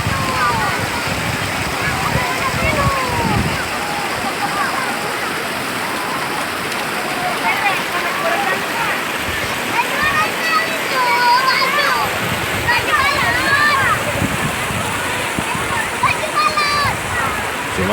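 A small two-tiered waterfall about two metres high at the Saweuk bathing site in North Aceh pours steadily, a dense, loud, continuous rush of splashing water with no break.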